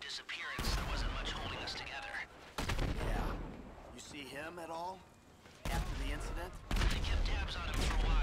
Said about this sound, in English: You guys did not just summon a fucking airstrike